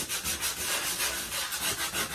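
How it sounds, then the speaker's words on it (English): Steady rhythmic sanding, a coarse abrasive rasp pulsing back and forth in quick strokes, close and fairly loud with no talking. "right now I'm gonna start sanding all this"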